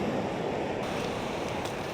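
Steady broadband wash of sea water sliding back down a sandy beach after a wave, a constant close rush with faint wind noise and no other sounds.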